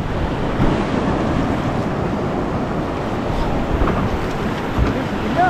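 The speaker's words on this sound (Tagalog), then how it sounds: "Malalaki ang alon." Big sea waves surge around a boat out on open water, a dense steady roar of surf and wind buffeting the microphone with no break.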